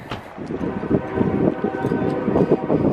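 Gusty wind buffeting a microphone outdoors beside a Winnebago Micro Minnie travel trailer, a constant low rumbling roar with rough fluctuations throughout, no clear speech.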